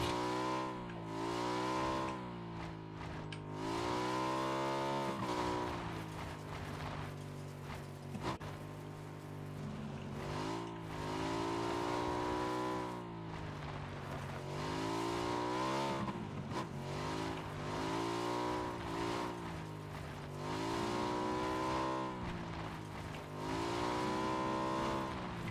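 A car in the PC version of the video game PUBG drives along with a steady engine drone that rises and falls in pitch as it revs. It sounds continuous and close, with no speech.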